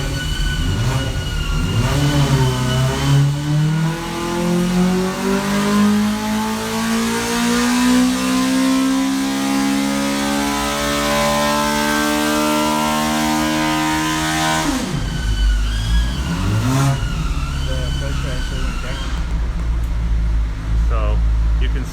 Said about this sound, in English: sounds like they have fired up the engine dyno